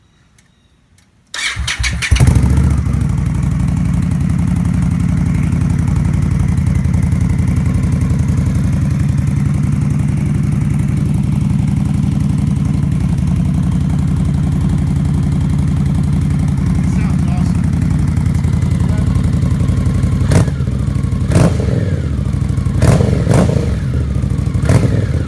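A 2017 Victory Octane motorcycle with an aftermarket exhaust fires up, settles into a loud, close, steady idle, then gives several sharp throttle revs near the end.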